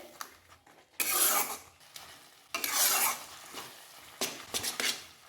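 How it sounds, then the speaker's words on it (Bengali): Spicy Bengali tomato mixture stirred in a pan until dry, a scraping, rubbing stir with light sizzling, coming in loud close bursts with short pauses between. "এইভাবে দিয়ে এবার এটাকে একদম শুকনো করে নাড়িয়ে নাড়িয়ে শুকনো করে নিন"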